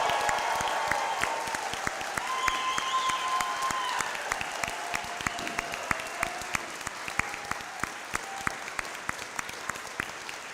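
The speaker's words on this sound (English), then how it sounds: "Please stand and applaud our graduates" Audience applause for graduates at a 2024 commencement ceremony, a steady dense roar of many hands clapping that carries throughout, with a sustained tone of music playing faintly underneath.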